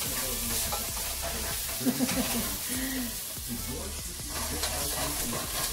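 Food sautéing in a pan, with a steady close sizzle and the scrape and clink of stirring, while a voice murmurs faintly in the background.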